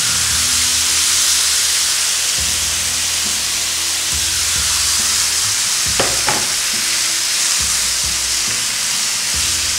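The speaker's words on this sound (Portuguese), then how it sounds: "a sobrecoxa de frango. Que a gente vai dar uma pré-cozida nela" Chicken thighs pre-cooking in a pan, a steady loud hiss of frying fat throughout with a few brief scraping stirs partway through, nobody speaking.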